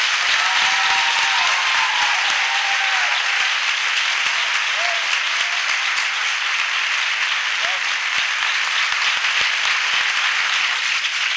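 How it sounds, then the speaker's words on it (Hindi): A church congregation at a prayer festival in Raipur claps in sustained, loud applause that fills the hall, steady and dense for the whole stretch, with a few faint voices mixed in. "क्या हम अपने प्रभु के लिए एक अच्छी ताली बजा सकते हैं?"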